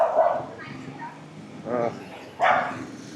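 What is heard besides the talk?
dogs barking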